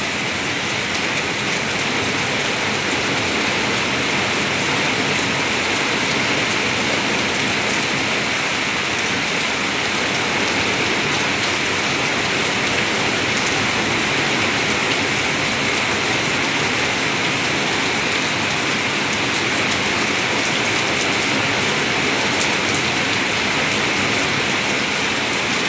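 Steady rain pours down at Anakkal, Kanjirappally on an April afternoon, a dense, even hiss of drops that holds at the same loud level throughout with no voices.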